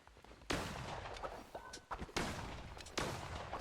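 Gunshots from the video game Cult of the Lamb, three loud sharp bursts about a second and a quarter apart, each trailing into a noisy roar, with smaller game effects and a brief tone between them.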